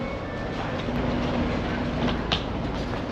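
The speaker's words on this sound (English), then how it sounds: "And my train already arrived." A German ICE L train at a station platform, heard as a steady broadband rumble of rolling stock with a faint sustained tone and a brief sharper squeal or hiss near the end, no voices.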